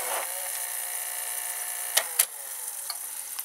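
A VHS video cassette recorder fast-forwarding a tape, giving a steady high mechanical whir with a few sharp clicks partway through, close and continuous.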